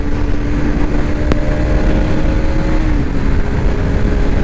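Modified Bajaj RS200 motorcycle pulling hard through the gears, a steady loud engine roar with a rising whine and rushing wind throughout, no break in power.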